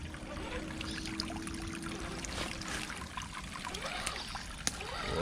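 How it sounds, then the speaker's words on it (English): Steady broadband rush of water pouring down a ledge on an outdoor rock course where remote-control Toyota trucks are driven, a continuous wash with faint ticks and a sharp click near the end. "Oh, there's a lot of water running down that."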